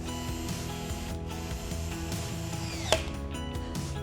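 A torque wrench ratchets on Husky 4000 HD coupling bolts with a run of close, steady mechanical clicks and one sharper click near the end. No one speaks.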